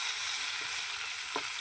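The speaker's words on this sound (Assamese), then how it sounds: "মাছখিনি ফ্ৰাই কৰি আছোঁ" Fish fries in oil in a small, old wok, giving a continuous close sizzle with a couple of soft stirring knocks and no talking.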